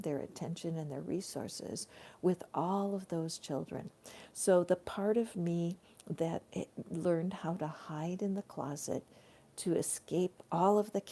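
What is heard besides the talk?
No distinct noise like a dog, phone or traffic.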